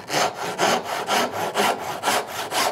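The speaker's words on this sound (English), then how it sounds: "Now when I'm sawing here" A hand saw cuts through wood for a spatula in steady, rhythmic back-and-forth strokes, about six close, loud passes with no talk.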